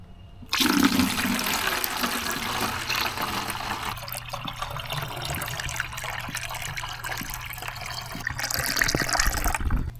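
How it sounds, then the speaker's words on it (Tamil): Homemade bio-enzyme liquid pours slowly through a funnel into a container, a steady close rush and gurgle of flowing liquid that runs continuously for several seconds before tapering off. "இந்த ஃபனர் வச்சுட்டு இதில் நம்ம மெதுவாக ஊற்றிக்கலாம்"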